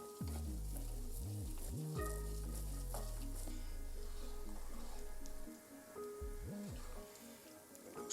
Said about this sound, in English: we're going to stir, of course, because it is always important to get down to the bottom, make sure that everything is cooked evenly